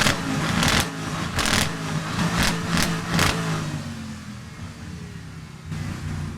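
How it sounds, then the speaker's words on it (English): An Aston Martin GT8R race car engine revs while parked at a heritage festival, with repeated sharp throttle blips followed by a lower, steadier idle rumble. "next to it we have a GT8R, which a gentleman inside is revving the engine"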